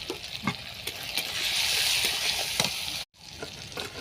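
Shrimp frying in a pan with onion, garlic paste, salt and turmeric, a loud continuous sizzle swelling as it is stirred, with a few scraping strokes and a brief dropout near the end.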